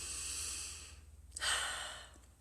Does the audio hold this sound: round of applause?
no